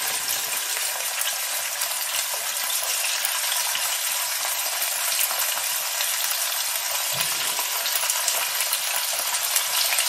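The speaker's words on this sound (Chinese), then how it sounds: "不用倒太多的油，这就是煎制，开始煎制。" Venison pan-frying in a small amount of oil, a steady, dense sizzle that runs without a break through the whole stretch, fairly close and even in level, with no talking.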